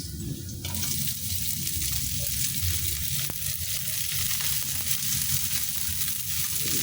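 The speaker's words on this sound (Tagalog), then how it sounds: "Tapos ilalagay na natin yung ating sibuyas." Onions dropped into a pan of frying sardines give a loud, continuous close sizzle that holds steady throughout, with no voices.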